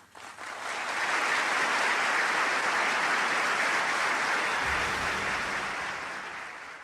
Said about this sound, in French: Le tonnerre d'applaudissements qui salue le discours d'Arafat